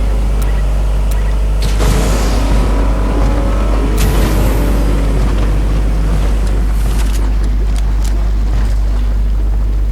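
A steady low engine drone of a motorboat in Fortnite runs throughout, with splashing water and gusty wind noise rising around the middle.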